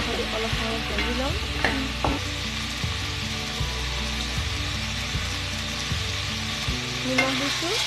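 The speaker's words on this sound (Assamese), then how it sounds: "অলপ সময় ভাজি ল'ম" Broiler chicken with ginger-garlic paste, cumin and turmeric sizzles steadily in a pan while a spoon stirs and scrapes in repeated strokes, close and moderately loud with no talking.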